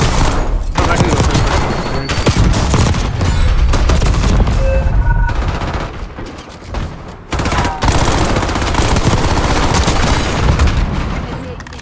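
Dense automatic gunfire and explosions from Call of Duty: Black Ops 6, loud and nearly continuous, with brief lulls and sharp bursts layered throughout.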